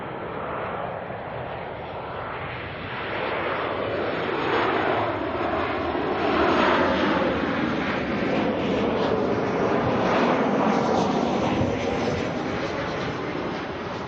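Qantas flight QF146 departs Auckland Airport, its jet engines roaring steadily and loudly for the full stretch, swelling slightly midway with broadband rush and a wind-buffeted edge.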